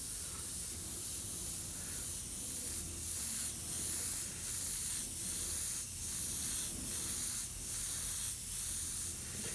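Paint sprays in a fine fogging mist from a distance, a continuous close hiss with faint regular pulsing and no talk.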